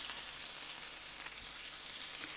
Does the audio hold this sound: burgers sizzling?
yes